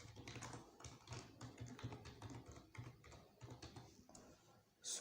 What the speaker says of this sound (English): So we can type here computer maintenance.